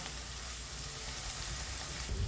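Ingredients fry in a pan while being stirred, a dense, continuous sizzle close by with a low knock near the end.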